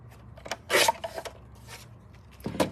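Cardstock cut on a paper trimmer for a handmade card, a few short scraping slides of the blade close by, one longer rasp early and another near the end.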